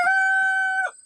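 An Arab crossbreed chicken gives a single loud, close, harmonic call of about a second, clear and alone with no talk.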